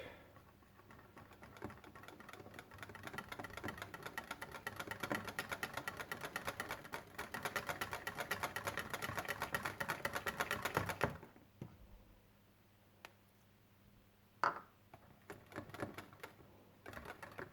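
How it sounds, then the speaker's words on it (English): A wire whisk stirs chaga lotion ingredients in a bowl, making a rapid, steady clatter of light clicks for about eleven seconds before it stops, followed by a few sparse taps and clinks. "now we're just going to combine them too. Let's put it in there. And I'll just use a whisk."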